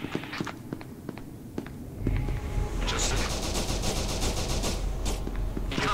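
Gunfire in the SCP first-person shooter game against a bullet-ridden statue enemy, sharp shots at first, then dense rapid bursts and sustained firing with scattered footsteps.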